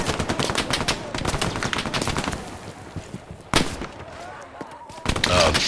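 Machine gun fire in the World War II shooter Hell Let Loose, a rapid, steady rattle of loud bursts that pauses briefly mid-way, resumes with a heavy crack and swells again at the end.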